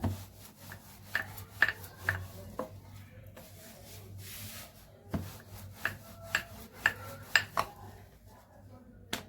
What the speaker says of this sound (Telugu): కొంచెం కొంచెం పిండి వేసుకొని ఇలా ఎక్కువ లేకుండా ఇలా కలుపుకుంటూ